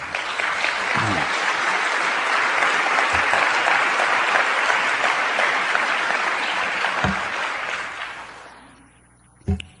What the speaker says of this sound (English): was going to say hold your applause. No, applaud more.